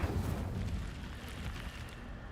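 Incendio fire spell cast in a Harry Potter game: a short, loud fiery whoosh and burst at the start that rumbles and fades away over about two seconds.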